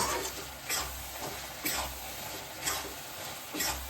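Brinjal and green peas roasting uncovered in a pan for baingan bharta, with a low steady sizzle under periodic soft scraping stirs roughly every second, close and quiet.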